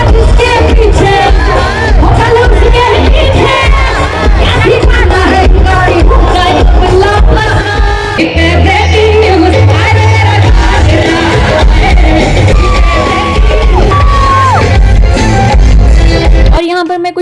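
Loud, dense crowd noise at an arts centre during Dussehra, with shouts and whoops rising from a constant roar of many voices, accompanied by music, and fairly close and continuous throughout.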